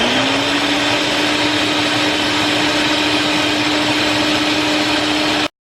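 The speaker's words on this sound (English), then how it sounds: "Now that we have all our ingredients, we're going to go ahead and blend it for about 2 minutes." A blender purees poblano sauce ingredients with cream in a loud, steady, close whir with an even motor hum that holds the whole time, then cuts off abruptly at the end.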